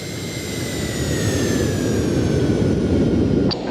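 Twin jet engines of a Citation Jet 525 at climb power make a steady, loud, continuous roar with thin high whine tones running throughout, holding even until a brief drop near the end.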